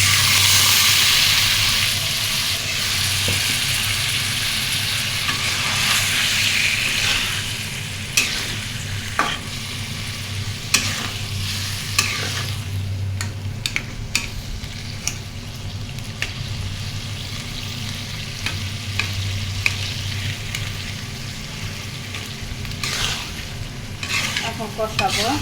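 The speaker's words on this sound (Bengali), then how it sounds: "আলুগুলোতে একটু সামান্য পানি দিচ্ছি।" Potatoes sizzle in a pan after a little water is added while cooking a potato curry, with continuous close frying hiss and frequent spoon scrapes and clacks against the pan throughout.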